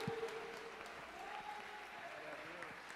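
Church congregation clapping together during worship at a healing and deliverance service, a quiet, steady patter of many hands held at an even level, with a voice faintly heard over it.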